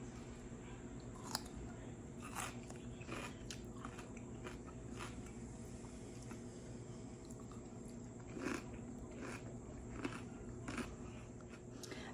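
A few crisp crunching bites of a homemade fermented pickle and chewing sounds at irregular intervals, close and fairly quiet over a low steady hum, with no talking.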